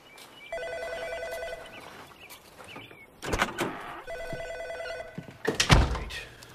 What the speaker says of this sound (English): Ray, if you're there, pick up the phone.